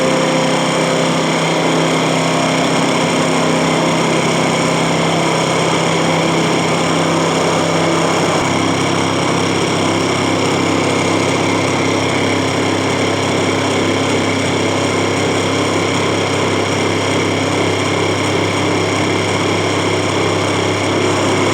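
A gyroscopic couple prototype's motor runs at constant RPM, a loud, steady whining engine drone with a slight shift in pitch partway through, continuous throughout with no speech.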